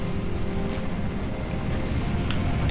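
Spaceship engine in the Halo Reach video game, a steady loud roaring drone like aircraft engines, with dense low rumble continuing throughout and no clear pass-by peak.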